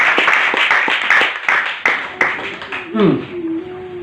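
A church congregation claps for the Lord in a run of sharp, closely spaced hand claps over about three seconds, with voices and room noise underneath before the clapping fades.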